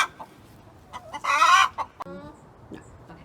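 A backyard chicken near the coop clucks loudly at close range, a burst of rapid squawking followed by a few shorter clucks and a descending cackle.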